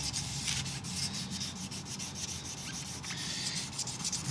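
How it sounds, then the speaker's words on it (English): Soft, steady rubbing strokes of 2000-grit wet-and-dry sandpaper wet sanding wood, quiet and close, in a gentle back-and-forth rhythm. "I'm wet sanding it very gently with a piece of 2000 grit"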